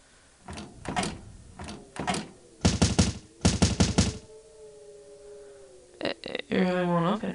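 A locked door in a horror video game rattles in several sharp bursts of clatter as someone repeatedly tries to force it open, separated by pauses, with a short spoken voice line near the end.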